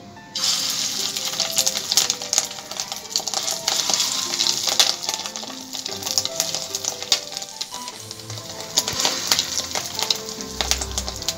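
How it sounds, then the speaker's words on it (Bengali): Fish roe fritters fry in hot oil, giving a steady, dense sizzle with crackling pops throughout, close and continuous, with occasional low clunks from the pan. "এরপরে একটা একটা করে আমি মাছের ডিমের বড়াগুলো ভেজে নিচ্ছি"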